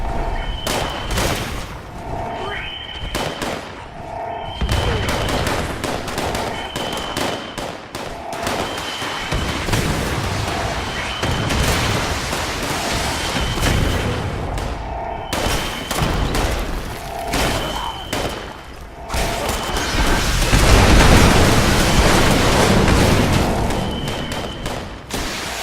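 Gunfire in the Fallout 76 video game: loud repeated bursts of shots and booming impacts in rapid clusters, with brief pauses between volleys and a dense heavy barrage near the end.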